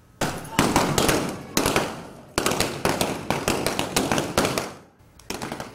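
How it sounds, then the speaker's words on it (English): Blank gunshots from a Wild West gunfight reenactment on Allen Street in Tombstone ring out in loud rapid volleys, sharp cracks in quick bursts with brief pauses between them, echoing along the street. "These fake gunshots haven't been heard on Allen Street in more than 3 months"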